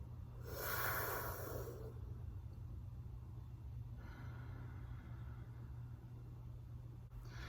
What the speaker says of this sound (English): we inhale through that curled tongue, we draw back the tongue into our mouth, close the lips, and exhale through the nose